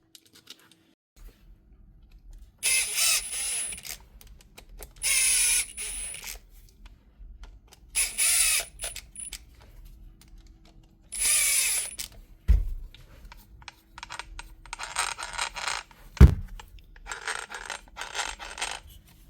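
A Mellif cordless grinder, freshly repaired, spins up in four short bursts with a high motor whine, each separated by pauses, followed by a few sharp clanks and handling knocks near the end.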